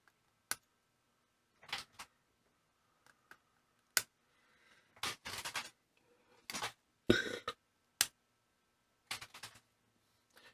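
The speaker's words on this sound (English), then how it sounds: "How rude of me to burp on camera." A person burps several times at a workbench while assembling a PFRsillator Mini synthesizer kit, short throaty bursts scattered among sharp clicks and taps, close and fairly quiet with no talking.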